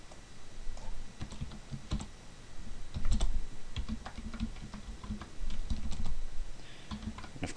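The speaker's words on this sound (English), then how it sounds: "I can't speed this up because I have typing issues" Typing on a computer keyboard while filling in a PHP email form, irregular bursts of clicking keystrokes close by, steady and moderately loud with short pauses, no talking.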